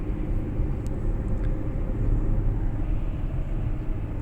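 Car cruising on a motorway during a transmission test, giving a steady, loud, continuous road and engine rumble with broadband tire and wind roar and no talking.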